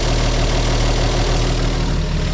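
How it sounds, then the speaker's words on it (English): A 1950 Chevrolet Styleline Deluxe engine runs steadily at high idle on a new fuel tank, a loud, even, close rumble with a regular low pulse throughout. "running like a top, but that's high idle"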